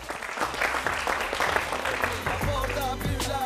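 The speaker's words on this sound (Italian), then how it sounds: "Un applauso ragazzi." Applause from a studio audience on an Italian television show, loud and close, a steady wash of clapping that carries through the whole stretch with a few voices mixed in.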